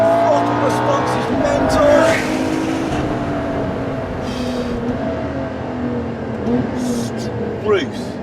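Ferrari LaFerrari accelerating hard in fourth gear, a loud sustained engine roar climbing steadily in pitch with rising whine, heard from inside the car under excited talk by the driver.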